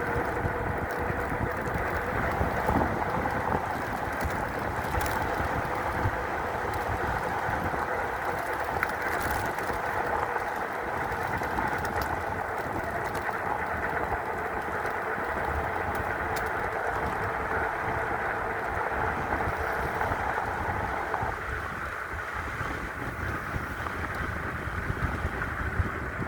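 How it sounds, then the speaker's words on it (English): Constant roaring wind buffets the microphone during an e-bike ride for the whole stretch, a steady loud rush with a low motor-like hum underneath. "Really windy today."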